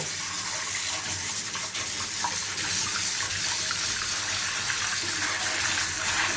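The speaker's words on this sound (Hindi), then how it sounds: "हाई प्रेशर के साथ हम इसे धोएंगे।" High-pressure water sprays onto an AC filter being washed at home, a loud, steady, continuous hiss and gush with no pauses, heard close.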